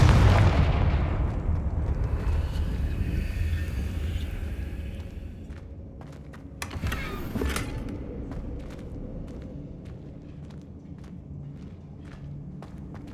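Confringo fire spell explosion in Hogwarts Legacy, a loud close blast at the start that rumbles and decays over several seconds, then a second burst mid-clip followed by scattered sharp crackles and impacts.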